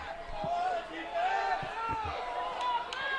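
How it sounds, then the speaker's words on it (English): Fans at a high school football game between Nekoosa and Byron cheer the defense, a distant, steady crowd roar with scattered shouts and thuds, under close talking. "Nekoosa fans cheering on the defense"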